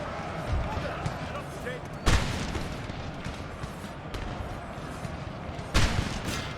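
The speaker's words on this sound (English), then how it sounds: "Let's start shelling them with artillery" Artillery shelling in the video game Napoleon: Total War booms out as two heavy, distinct blasts a few seconds apart, rising over a constant rumble of battle noise.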